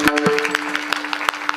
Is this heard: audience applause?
yes